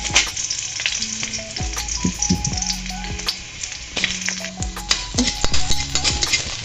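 Garlic frying in a small amount of cooking oil for a marinated pork steak, a steady close sizzle with scattered crackles and occasional utensil clinks against the pan.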